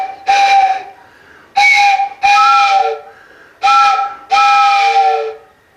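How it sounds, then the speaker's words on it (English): A steam train whistle blows as the train pulls into a station: five loud, close blasts, each a strong tonal shriek lasting under a second, with short gaps between them. "he could hear the train as it blew"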